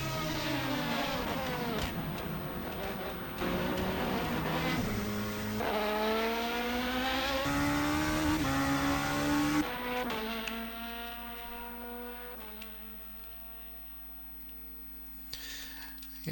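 Ligier LMP2 prototype race car in rFactor 2 at Le Mans, a sustained high-revving engine note climbing through repeated upshifts, then settling into a steady drone that fades slightly toward the end.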